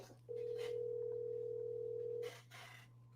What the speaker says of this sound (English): Calling Tina